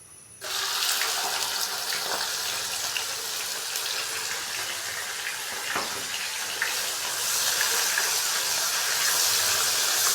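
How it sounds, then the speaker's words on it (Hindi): Finely chopped onion hits a hot pan with roasted cumin and fries, a sudden loud sizzling hiss that starts abruptly and holds steady, swelling slightly near the end, with no voices. "तो प्याज डालेंगे इसके अंदर"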